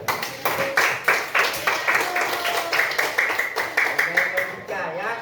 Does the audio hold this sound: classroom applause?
yes